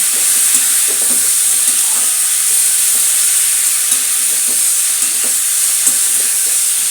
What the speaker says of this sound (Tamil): தக்காளி வெங்காயம் இஞ்சி பச்சை மிளகாய் எல்லாம் வந்து வதக்கி எடுத்துக்கிறேன்